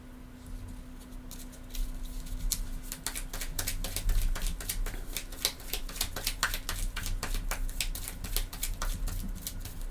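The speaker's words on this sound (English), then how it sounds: "I'll shuffle this up." Playing cards being shuffled for a solo session of the board game Assyria: Second Edition, a run of quick dense riffling flutters close to the mic, repeating for several seconds over a low steady hum.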